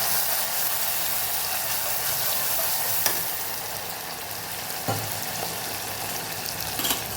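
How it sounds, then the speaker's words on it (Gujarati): Garlic and chili paste sautés in hot oil for a Kathiyawadi chorinu shak, a close, steady frying hiss that holds throughout, broken by a few light spoon taps against the pan. "લસણને મરચાંની જે પેસ્ટ તૈયાર કરેલી એ આપણે સાતળી લેવાની છે"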